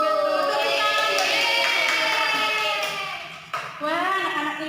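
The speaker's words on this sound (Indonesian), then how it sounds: "Tepuk tangan buat" A class of first-grade children claps hands in a steady burst, with young voices chanting loudly over the applause before it briefly dips and picks up again.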